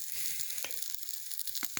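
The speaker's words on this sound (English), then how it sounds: "maple sap boiling" Maple sap boils in a pan, giving a faint, steady hiss with scattered soft pops and crackles, heard alone with no talking.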